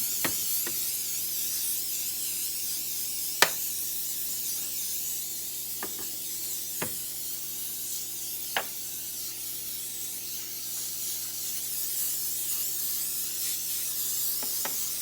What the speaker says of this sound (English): you're going to spray liberally down each chicken wing